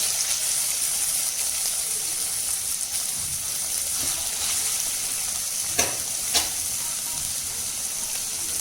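Honey chilli paneer ingredients hiss and sizzle continuously in a hot pan, with a couple of brief stirring scrapes near the end; loud and close, no talking.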